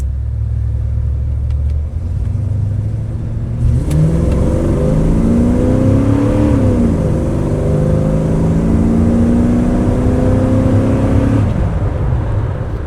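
A 1987 Chevrolet C10 Silverado's 5.7 TBI V8 engine rumbles at idle, then revs hard, climbing and holding a loud roar before dropping back to idle.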